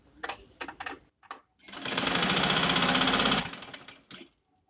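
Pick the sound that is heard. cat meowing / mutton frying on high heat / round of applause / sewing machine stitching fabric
sewing machine stitching fabric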